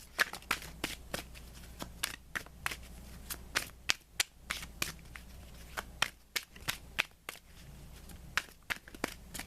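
Tarot cards from a Romance Angels Oracle deck being shuffled in the hands, a steady run of crisp, papery riffling bursts and slaps repeating through the clip, close and alone.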